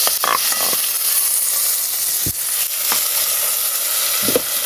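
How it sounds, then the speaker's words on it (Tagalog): Aromatics sauté in a hot pan while cooking on a farm, giving a steady close sizzle with a few sharp scrapes of a utensil; no one speaks. "Pagkatapos ang gisa naton ang panakot."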